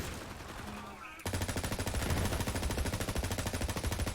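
Legendary Faisor rifle firing in the video game Borderlands 3: a loud, continuous burst of rapid automatic shots with a steady, fast rhythm that begins abruptly after a brief quieter moment.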